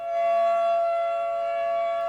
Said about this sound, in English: I had never experienced it until I heard this siren in Thorsby